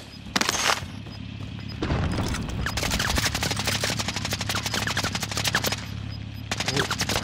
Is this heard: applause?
no